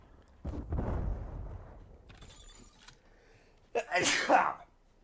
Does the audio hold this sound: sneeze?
yes